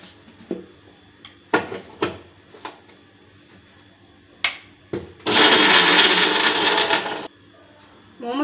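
A kitchen mixer grinds momo chutney ingredients with sugar and salt, a loud whirring burst of about two seconds, preceded by scattered clinks and knocks of utensils and jars.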